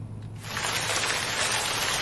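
Rain falls in a steady, dense hiss that swells in after a brief quieter moment and then holds evenly throughout, with no voices.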